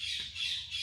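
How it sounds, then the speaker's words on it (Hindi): A bird squawks loudly and continuously close by, harsh and steady throughout, with no talk over it. "चिड़िया बहुत ज़्यादा बोल रही है"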